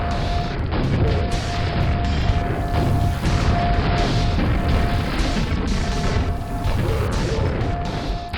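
Rocket and grenade explosions crash and boom continuously in Quake's haunted-halls fortress level, dense overlapping blasts and impacts piling up loudly over a steady droning tone.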